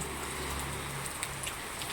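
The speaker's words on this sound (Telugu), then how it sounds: "వర్షం చాలా దారుణంగా పడుతుంది" Steady, dense rain hisses down without a break, fairly faint and even throughout.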